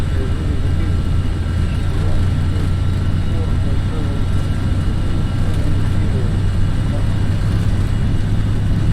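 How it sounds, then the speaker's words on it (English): Airbus A321 freighter from a flight simulator accelerating down the runway on its takeoff roll, a steady loud jet engine roar with a strong low hum that holds constant throughout, with no pauses. "that's gonna be a long takeoff roll"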